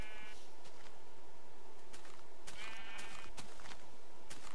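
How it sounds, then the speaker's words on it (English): Sheep bleating in a video game while exploring a mountain landscape, a few short bleats over a constant noisy background, with no talking. "Sheep."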